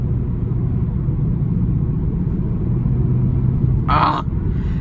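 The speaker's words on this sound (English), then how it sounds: "That exhaust is phenomenal. Just from the factory, sounds amazing." Steady low exhaust rumble from a 2012 BMW 335i manual convertible with factory exhaust cruising along, a continuous deep drone with a brief higher burst near the end.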